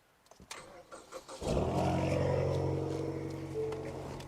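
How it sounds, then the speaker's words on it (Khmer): A few soft clicks, then a car engine cranks and catches, settling into a steady, close idle that hums on to the end. "ចូលក្នុងឡានខ្ញុំបញ្ឆេះឡានសិន"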